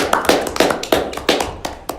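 Several people clap in a small, close room, with sharp slapping claps at an uneven rhythm over about two seconds and no voices alongside them.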